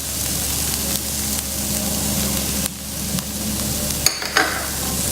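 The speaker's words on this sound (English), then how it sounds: "Give it all a good stir." Onion, garlic and spices sizzling in a frying pan while being stirred, a steady close hiss broken by scraping strokes of the spoon near the end.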